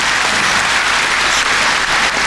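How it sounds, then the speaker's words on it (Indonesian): Church congregation applauding to welcome a guest preacher at a worship service, a steady, dense wash of many hands clapping throughout with no break and no voices on top. "Mari kita tepuk tangan menyambut dia."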